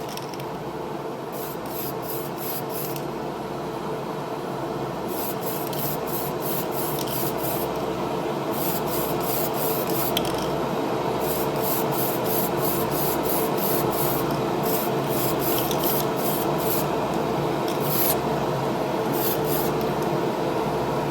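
A spray can lays base and clear coats on a model, giving a continuous close hiss with bursts of rapid clicking and rattling between passes.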